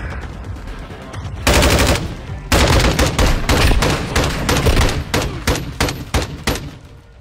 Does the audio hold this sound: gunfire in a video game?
yes